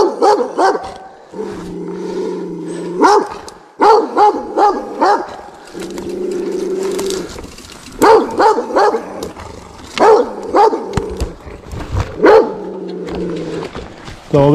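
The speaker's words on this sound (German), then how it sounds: "Also bis daher kommt der Hund, wie man sieht." A dog on a Mallorca mountain-bike trail barks loudly and repeatedly in close bursts, with growls between volleys and a steady low hum running underneath.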